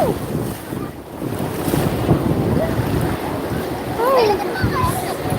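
Steady wash of sea water and waves at Tiruchendur shore with strong wind buffeting the microphone, and a few faint bird-like chirps.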